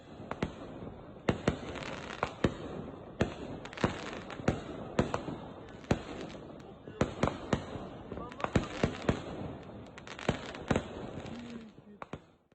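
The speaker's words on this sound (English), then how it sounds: "And then we had the fireworks." New Year's fireworks burst at night in a long irregular string of sharp cracks and booms, some near and loud, others fainter and farther off, with a muffled crowd murmur beneath.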